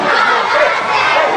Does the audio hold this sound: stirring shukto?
no